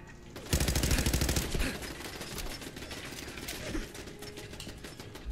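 Rapid automatic gunfire from a weapon in the game Fallout 4 sounds as a dense burst that settles into a steady, loud stream of shots and mechanical clatter without any pause to reload.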